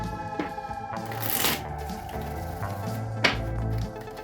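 Oracle cards shuffle by hand during a tarot reading, with soft riffling bursts and a couple of sharper slaps against the deck, set over a faint musical background with no talking.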